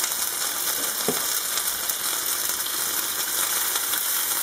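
Steady, even sizzling of pork chops browning in a hot pan, a continuous close hiss with a brief scrape of stirring partway through.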